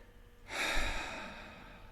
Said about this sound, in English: And you want to take a couple of deep breaths.